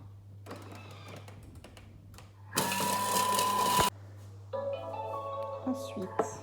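A Thermomix chops shallot and parsley at speed 5, a short, loud whirring burst of blades against food lasting about a second and a half. Quieter kitchen clatter comes before and after it.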